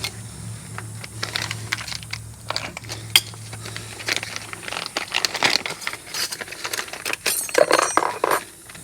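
A bag of new brake hardware for a 2001 Mercury Mountaineer brake job is handled up close, with scattered light crinkles and small metallic clinks and taps coming in irregular bursts, no talking.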